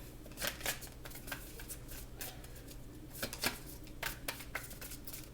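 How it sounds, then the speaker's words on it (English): Tarot cards are shuffled by hand in quick bursts of crisp riffling and soft slaps, several flurries spread across a few seconds with short pauses between, close and clear with no talking. "Today is a bad day for me in shuffling."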